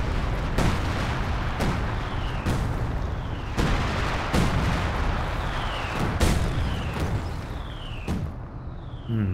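Scattered bombs fall across a wide area in a video game, setting off a steady series of heavy, booming explosions roughly every second, with faint falling whistles between some of the blasts.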